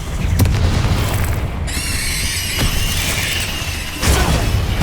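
A Confringo fire spell exploding in the video game Hogwarts Legacy: a loud, dense, rumbling blast with crackling bursts and a second surge near the end.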